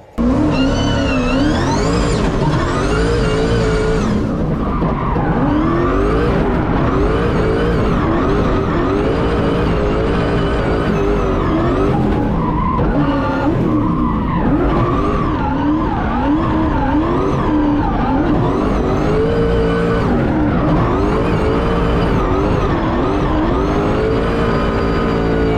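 A drift car burning worn tires on a brand-new asphalt drift track, engine revving hard and wavering continuously with loud tire squeal throughout, close and unbroken.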